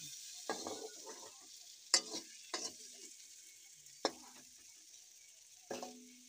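Parwal (pointed gourd) sabzi fries gently in a pan over a low flame, a soft steady sizzle broken by several sharp scrapes of stirring at uneven intervals.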